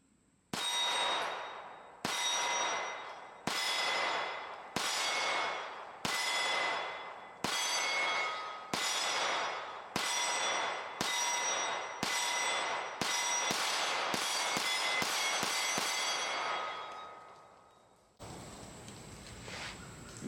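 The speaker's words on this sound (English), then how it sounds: "I'm just going to shoot on one single target" Springfield Prodigy DS Comp pistol firing New Republic ammunition at a shooting range: about sixteen loud, sharp shots, evenly spaced at first and then quickening into a fast string, each with a ringing tail, followed by a short stretch of quieter background.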